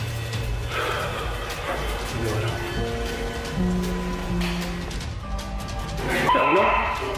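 A dog barks in short alert yips and woofs, with some whimpering, indoors over a steady background hum and faint patter.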